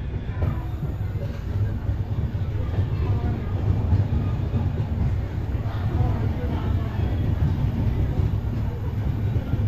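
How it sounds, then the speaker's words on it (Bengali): A train pulls out of Tamluk station, its steady low rumble and rolling wheel noise continuing evenly at close range for several seconds. "ট্রেন আমাদের ছেড়ে বেরিয়ে যাচ্ছে তমলুক স্টেশন"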